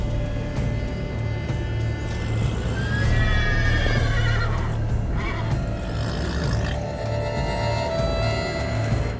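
A horse neighs and whinnies in The Witcher 3, a bright rising-and-falling call repeated a few times over a steady low in-game ambience and music.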